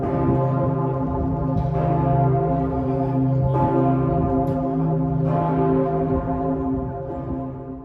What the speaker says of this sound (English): St. Stephen's Cathedral rang special bells that evening when we got back to the Stephansplatz area